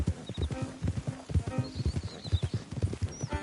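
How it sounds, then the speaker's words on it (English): Horse hooves clop in a quick, uneven rhythm in the open-world western game Red Dead Redemption 2, close and clear, with a brief whinny and bits of jingling tack. "Don't want the horses clopping around outside the window."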